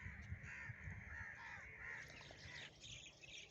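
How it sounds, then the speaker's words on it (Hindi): Crows caw repeatedly alongside other birds at dawn over a village wheat field in rural Punjab, Pakistan, faint and somewhat distant calls overlapping in the cool morning air. "ठंडी हवा और परिंदों का शोर"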